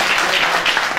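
Audience at a book presentation applauds in a brief, dense burst of clapping that fills the room steadily from start to finish.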